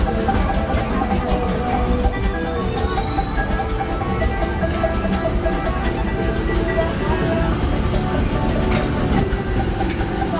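Disneyland steam train rolling along its tracks, a dense steady rumble and rhythmic clatter with squealing wheel tones, heard up close from aboard.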